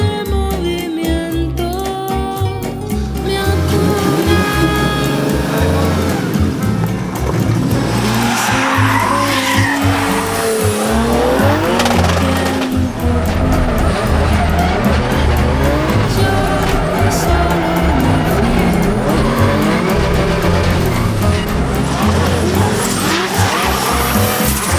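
A BMW 1 Series drifting, its tires squealing and skidding loudly and continuously as the engine revs rise and fall, close and sustained throughout.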